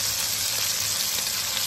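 Steak frying in a pan with garlic browned first, a steady close sizzle of hot fat crackling evenly throughout, with no voices.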